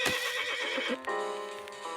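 A horse in the video game Auger Order gives a loud whinny, then a second shorter neigh follows with faint hoof clops, close and alone with no speech.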